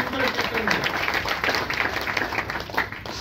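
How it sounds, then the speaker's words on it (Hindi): Lively audience clapping at a business motivation meeting in a Patna hotel hall, a continuous fluttering wash of hands with slight swells, fairly close and loud. "एक जोरदार तालियां और हार्दिक स्वागत"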